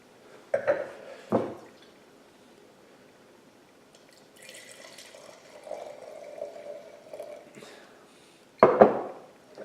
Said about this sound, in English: I hate to rinse